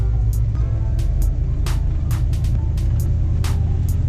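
A car rolls along with a constant low road and engine rumble, broken now and then by short hissy bursts of tyre and wind noise. The car was last driven ten years earlier.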